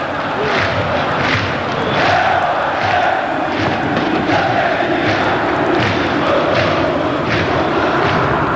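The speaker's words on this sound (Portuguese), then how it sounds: "Canta a torcida rubro-negra." Flamengo supporters chant in a packed football stadium during a match against Vasco da Gama, a dense, steady roar of massed voices with rhythmic surges throughout.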